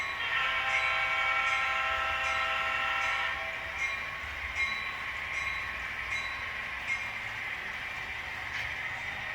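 An HO scale model train sounds its horn at a grade crossing: a sustained multi-tone horn blast for about three seconds, then a softer hum of running with faint clicks. It is close and moderately loud, with no talking.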